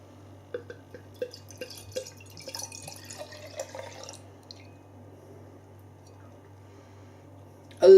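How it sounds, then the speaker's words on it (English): Vigorous pour of a 40-year-old Thomas Hardy's Ale beer, released in 1974, into a glass: scattered close drips and light trickling sounds, then a sudden loud splashing burst at the very end. "I'm going to give it a very rigorous pour"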